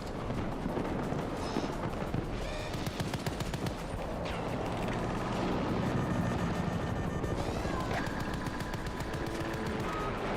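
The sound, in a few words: helicopter in video game Battlefield 2042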